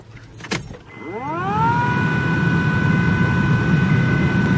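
A Honda Civic's newly installed blower motor whirs up to speed with a rising whine, then settles into a loud, steady hum and drone.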